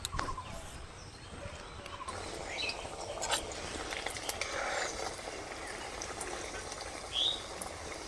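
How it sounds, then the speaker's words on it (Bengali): Flaky khasta kachori stuffed with green peas deep-frying in oil, a steady bubbling hiss that runs throughout at moderate level, with a few brief clinks and no talk. "এইভাবে করে সব কটা কচুরি আমি ভেজে নেব"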